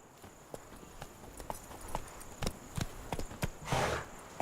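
Hooves of Roach, a horse in the video game Witcher 3, clip-clop in an uneven galloping rhythm of close, moderately loud thuds, with a brief whooshing burst near the end.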